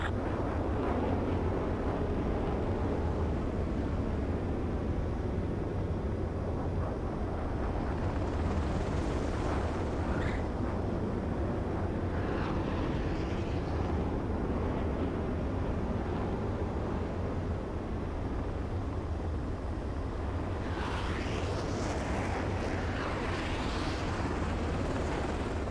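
Fighter jet touching down on a runway in the Ace Combat 7 flight game: a steady, heavy engine roar fills the whole stretch, with hissing, rushing swells rising twice, about a third of the way in and again near the end.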